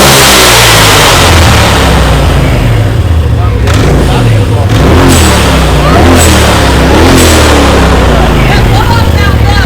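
Polaris RZR Turbo S side-by-side with a Dynojet tune, blow-off valve and new charge pipe, its engine revving loudly and continuously with turbo whoosh and sharp valve bursts, people talking over it.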